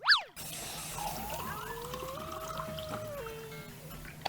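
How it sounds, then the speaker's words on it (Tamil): Water poured into a glass on a bed, a steady trickling fill with a slowly rising tone, fairly close and alone after a brief sharp sound at the start. "இப்ப தண்ணியை ஊத்தலாம்."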